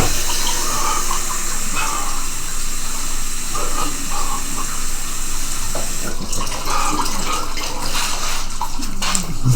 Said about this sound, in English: So now we have 3 glasses, 1 cup tap water. Measured 1 cup tap water.